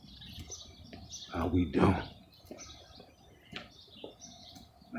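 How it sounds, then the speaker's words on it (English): Birds chirp and whistle in the morning in Chester, Pennsylvania, while a person speaks briefly over the outdoor ambience. "Like to listen to the sound of nature in the morning when the birds whistling."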